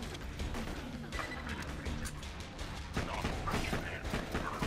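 Rapid gunfire and crashing impacts in the video game Borderlands 2, a dense, continuous barrage of shots and clattering hits with faint speech underneath.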